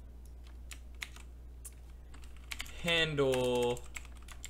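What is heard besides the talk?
typing on a computer keyboard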